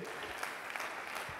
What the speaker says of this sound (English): You ought to clap your hands like you believe